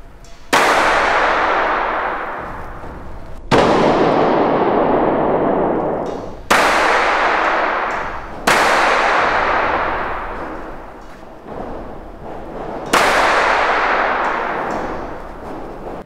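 Pistol shots on an indoor shooting range: five loud, sharp reports at irregular intervals of two to four seconds, each ringing with a long reverberant decay through the enclosed hall.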